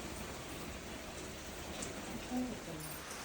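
Rain falls again around a village home in the Konkan countryside, a soft, steady patter heard from a distance with a brief faint knock partway through.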